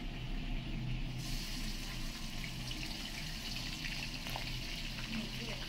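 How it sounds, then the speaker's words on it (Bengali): Country chicken fries in a large wok, giving a steady crackling sizzle with a bright hiss and occasional stirring scrapes, close and continuous. "এভাবে হালকা করে ভাজা নেবা, বেশি ভাজলে কিন্তু এমনি দেশি মুরগি মজা লাগবে না"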